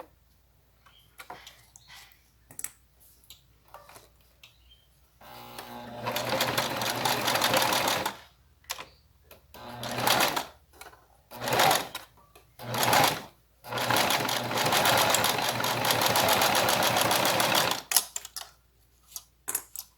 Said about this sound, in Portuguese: Aqui na máquina, eu vou fazer uma costura na beiradinha.